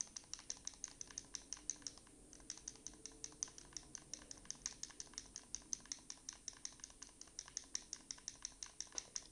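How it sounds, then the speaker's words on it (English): Game controller buttons click rapidly while scrolling through NHL 22 franchise mode menus, a fast, steady stream of light, close taps repeating without letup and with no voices. "If you can hear all that button clicking,"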